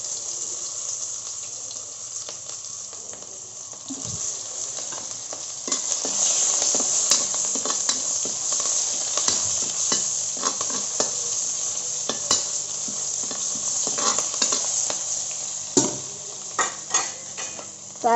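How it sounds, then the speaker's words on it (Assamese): Onions fry in hot oil with a steady, bright sizzle that grows as they go in, while a utensil stirs and clinks against the pot now and then. "তেল গৰম হৈ গ'ল, এতিয়া পিঁয়াজ দিম।"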